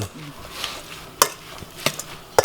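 Red ant egg salad with shallots being stirred in a bowl, a soft scraping stir broken by a few sharp clinks of utensil against the dish.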